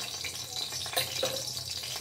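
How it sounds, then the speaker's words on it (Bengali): Tiger prawns marinated in salt and turmeric fry in a hot pan, a continuous close crackling sizzle with scattered bright pops and a faint stir or shift partway through, no one speaking. "আর এখানে আমি কটা বাগদা চিংড়ি নুন হলুদ দিয়ে ভিজিয়ে রেখেছিলাম, এটা ভেজে নেব।"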